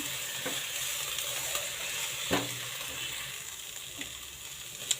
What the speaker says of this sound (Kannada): ಸ್ವಲ್ಪ ಕೊತ್ತಂಬರಿ ಸೊಪ್ಪು ನೀಟಾಗಿ ಮಿಕ್ಸ್ ಮಾಡ್ಕೋಬೇಕು